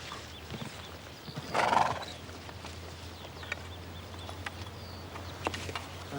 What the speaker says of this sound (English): My horse is lame.